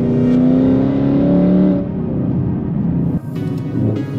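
Ford Mustang cruising steadily at 100 km/h on a freeway, a loud continuous engine drone with tonal harmonics over road noise, settling into a broader rumble partway through.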